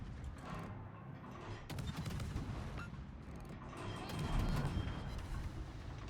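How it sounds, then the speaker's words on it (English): Rapid bursts of distant gunfire and mechanical clatter from a video game battle, dense and continuous, with a low rumble underneath. "I just got shot at from somewhere"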